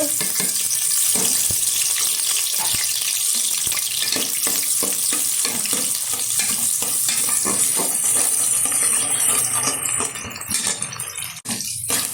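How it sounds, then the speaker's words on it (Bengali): Chopped onion frying in mustard oil for a pot-cooked chicken dish, a steady close sizzle with scattered crackles and stirring scrapes throughout, easing off near the end. "এখন তেলের মধ্যে দিয়ে দেবো কুচিয়ে রাখা পেঁয়াজ, এটা আমি ব্রেস্তা করে ভেজে তুলে নেব।"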